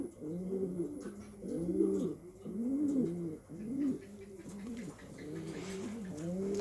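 Racing pigeons coo repeatedly up close, a rhythmic series of soft, rolling throaty calls with brief pauses between them.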